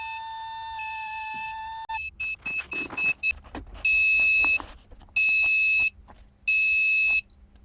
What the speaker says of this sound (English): The dreaded BMS alarm.